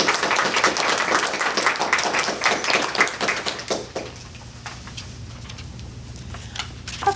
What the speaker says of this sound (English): Please join me in applauding each of these students as they're introduced and called up to the